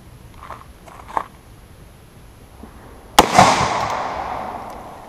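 Gunshot fired through a tunable muzzle compensator during a slow-motion test: one sharp, loud crack followed by a long fading echo, preceded by a few faint handling clicks.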